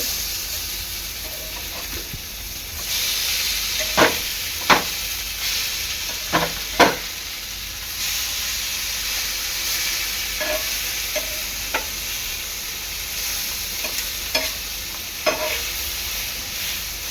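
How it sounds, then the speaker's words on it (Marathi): Fish roe (gaboli) frying in oil in a pan, a steady hissing sizzle with repeated sharp clicks and scrapes from a utensil turning the pieces, close and unaccompanied by talk. "दोन्ही बाजूनी चांगल्या तळून घ्यायचे आहेत"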